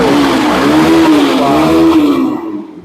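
A 2019 BS4 Yamaha SZ-RR motorcycle engine runs close and loud, rising and falling in pitch through a few revs before quickly dying away.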